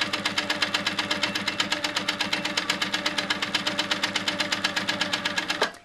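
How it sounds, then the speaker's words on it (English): A sewing machine stitches a quilt in a fast, steady, even run of mechanical needle beats, close and loud, that stops sharply at the end. "I can do some stitch in the ditch if there's a little bit of a seam here"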